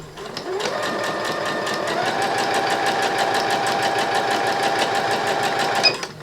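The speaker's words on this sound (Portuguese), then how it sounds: "Minha máquina tá bem rápida, porque eu tava costurando, mas eu prefiro ir numa velocidade mais baixa" A home sewing machine stitches fabric at a fast, steady clip, its needle ticking in a rapid, even rhythm with a whirring motor hum, close and continuous, with a brief clunk as it stops.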